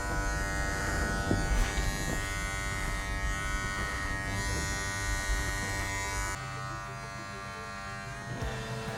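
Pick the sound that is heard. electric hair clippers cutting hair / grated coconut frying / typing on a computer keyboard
electric hair clippers cutting hair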